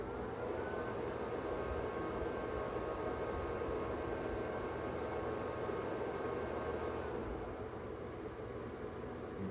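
A bFan electric fan running at 100% speed gives a steady, loud, broadband whooshing roar like a jet engine, constant throughout with a faint tonal whine and no voices.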